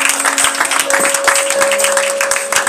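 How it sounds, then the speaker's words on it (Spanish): Congregation at an evangelical revival service clapping in a quick, fairly regular rhythm, loud and close, with sustained tones and voices running through it. "¿Cuánto le dan aplausos al Rey?"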